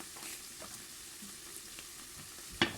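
Onion frying in oil in a pan while being stirred: a faint, steady sizzle with a sharp clink of the utensil against the pan near the end.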